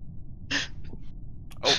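Two sharp sneezes from a person nearby, the first at about half a second and a stronger second one near the end, with faint breathy sounds between them.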